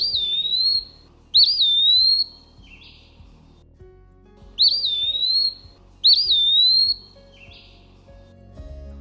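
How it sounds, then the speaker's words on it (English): An eastern wood pewee sings its slurred, whistled pee-wee song, four clear phrases in two pairs with brief pauses, set over a soft background of faint ticking and low rumble. "They sing pee-wee, and if an intruder comes too close to a wood pewee, sometimes you'll hear a very sharp trill of the pee."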